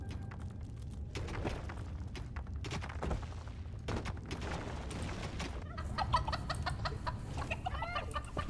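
Gobbler creatures in the dungeon management game Dungeons 4 cluck and squawk like poultry, several overlapping calls rising out of a busy, rumbling game soundscape, growing denser toward the end.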